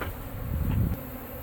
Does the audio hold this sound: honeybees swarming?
yes